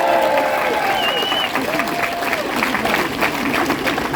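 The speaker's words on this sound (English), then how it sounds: "We'll give him a round of applause." A hotel-ballroom crowd at a Pierre Poilievre rally in Sudbury, at the Radisson, applauds a newly signed party member, with loud, steady, dense clapping throughout and a few whistles and cheers on top.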